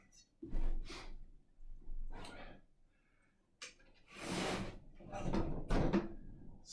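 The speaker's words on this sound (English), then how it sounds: "slide it in on this end, not on that end" A wooden support piece for an IKEA MALM chest-of-drawers base slides into place with scraping, rubbing bursts and a few knocks, close up, in short repeated strokes.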